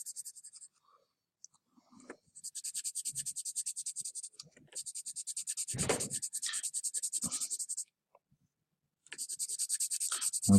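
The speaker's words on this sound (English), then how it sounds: "When you colour in, try and add the colour in the same direction as much as possible." A pencil scratches back and forth on paper while colouring in, close and quiet, in long rhythmic runs of strokes kept in one direction, separated by short pauses and small handling sounds.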